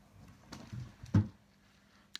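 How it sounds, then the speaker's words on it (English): A dog tipping over an entire toy box indoors: a few scattered thumps and rattles with one louder knock in the middle, fairly faint and brief, with no talk. "That is the sound of a dog tipping up his entire toy box."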